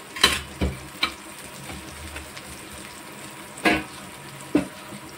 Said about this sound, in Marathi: तिला पण तेल टाकून चांगलं फ्राय करून घेणार आपण.